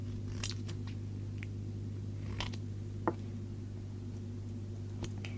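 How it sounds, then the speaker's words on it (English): Scissors trim the ends off a die-cut paper craft piece in a handful of quiet, crisp snips at an uneven pace over a steady low electrical hum, with no one talking. "Now I gotta just cut the ends off a little more."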